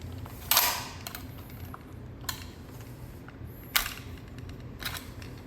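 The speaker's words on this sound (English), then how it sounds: "You can see it's got this little knockout that you get a flathead, and we're just gonna work that out." A flathead screwdriver prying an electrical box knockout loose, producing a few sharp, separate clicks and snaps against a quiet room hum.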